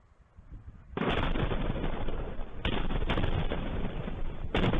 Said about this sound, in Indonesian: Serangkaian ledakan terdengar di kawasan Al-Dir, Provinsi Basra